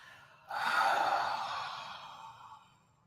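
One long, deep breath pushed out through an open mouth during a guided breathing exercise, a close breathy whoosh that starts suddenly, then slowly fades over about two and a half seconds, with no talking.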